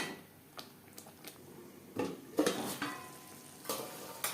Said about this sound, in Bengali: লো টু মিডিয়াম ফ্লেমে 4-5 মিনিট মশলা কষিয়ে নেব।